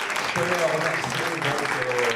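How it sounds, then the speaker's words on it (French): An audience applauds the artists at an evening tribute concert in Hyères, steady clapping from the hall with a voice speaking over it throughout. "je crois qu'on peut encore applaudir tous les artistes là"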